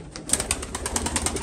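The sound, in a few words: Iraqi pigeons cooing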